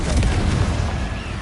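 A deep, rumbling blast from the Confringo spell in Hogwarts Legacy, a single heavy boom that rolls out and fades over a second or so.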